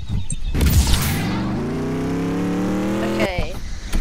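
Car accelerating in the Roblox Mad City video game, a synthetic engine tone climbing steadily in pitch for a few seconds, with a player talking over it.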